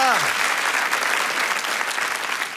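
A packed hall at a stand-up comedy show claps loudly and steadily, a dense wash of applause that holds throughout, with a voice briefly heard at the very start.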